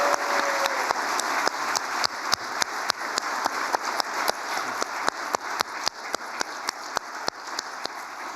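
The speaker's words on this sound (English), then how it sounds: "I think that needs a round of applause" An audience at a New York Stock Exchange event claps in sparse, evenly spaced hand claps that stay steady and moderately loud for several seconds over a background hum.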